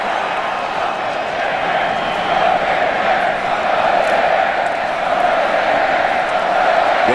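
Sellout stadium crowd at a Nebraska college football game in Lincoln, Colorado at Nebraska, rising to its feet and cheering with a loud, sustained roar and scattered shouts.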